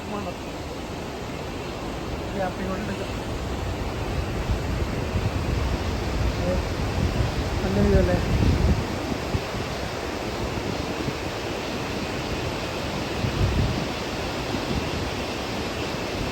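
Steady broadband roar of a waterfall at Ripple or Chuniyammakkal falls, a constant rushing wash heard from a viewpoint, slightly swelling midway, with a voice speaking briefly over it.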